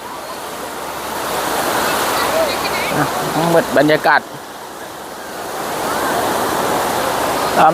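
Sea waves wash onto the beach at Hat Nam Sai, Sattahip: a broad, steady rush of surf that swells and eases, with someone speaking briefly in the middle.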